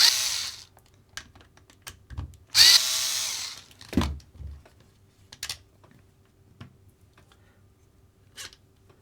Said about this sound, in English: the first thing we're going to have to do is remove the 2 screws holding the wing.